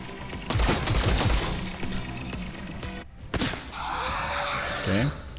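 Gunfire from the video game XCOM Chimera Squad during a rooftop assault, bursts of rapid shots and impacts with crashing effects, a brief drop to near silence midway, then a humming energy tone, with a voice speaking over parts.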